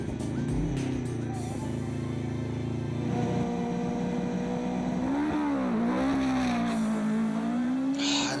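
Chevron race car with a 2-litre engine launching on a hillclimb run, engine note rising and revving through gears at a steady volume, with a commentator talking over it.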